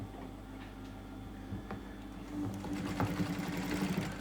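Sewing machine stitching the fur of a handmade gerbil hand puppet, a quiet rapid mechanical ticking and whirring that grows busier and slightly louder partway through, with no talking.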